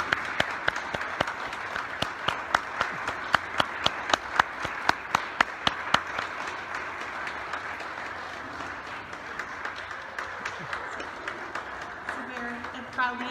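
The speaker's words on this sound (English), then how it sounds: "please give a warm thanks with your applause" Audience applause at a parish choir singalong, a crowd clapping steadily through most of the stretch with sharp individual claps standing out, then fading as a voice begins speaking near the end.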